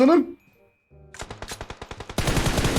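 Automatic weapon fire in the PUBG Mobile battle royale game, a rapid burst of evenly spaced shots followed by denser overlapping gunfire, loud and close.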